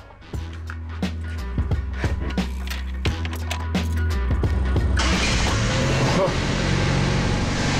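A 1984 Mopar woody wagon's engine cranks with uneven thumps, then catches and settles into a steady running rumble; a voice speaks briefly in the background.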